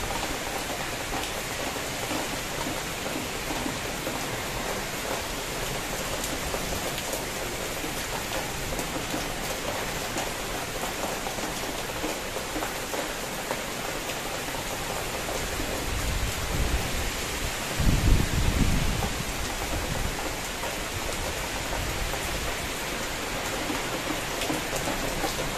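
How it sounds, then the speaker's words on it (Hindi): Heavy rain pours steadily in a dense, hissing wash, with a brief low rumble swelling partway through. "बहुत तेज वाली बारिश हो रही है बाहर"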